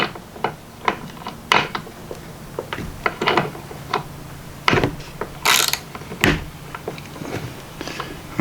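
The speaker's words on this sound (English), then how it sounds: "We're gonna just loosen the bar nut on here and show you that the ratchet does work." A Craftsman overdrive ratchet loosening a bar nut makes bursts of sharp clicking and ratcheting, with irregular pauses between strokes, close up and fairly loud.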